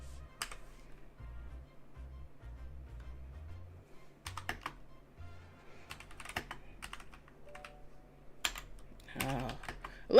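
Fingers tapping on a computer keyboard in an irregular, stuttering rhythm of soft clicks with occasional sharper keystrokes, close and fairly quiet, with no talking.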